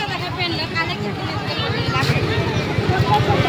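A motorbike pulls away from the Sansari Mai temple grounds in Rangeli, its low engine putter pulsing steadily and growing slightly louder beneath a continuous murmur of crowd voices.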